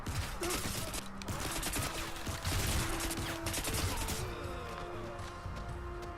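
Gunfire in the video game Crysis on PS3, a dense, loud fusillade of rapid shots and impacts that continues throughout and thins slightly toward the end.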